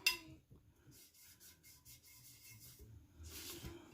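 A rag soaked in nail polish remover rubs across a sublimation tumbler in quick, close, scratchy strokes, a short run of brisk swipes with a final burst at the end.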